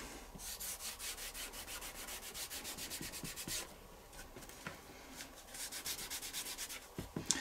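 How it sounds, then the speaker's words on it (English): Leather treatment wax is worked by hand into a leather phone case. Quiet, steady rhythmic rubbing strokes repeat back and forth, close up, with a few light taps and no voices. "leather treatment wax into the leather to give it a nice bit of body and finish"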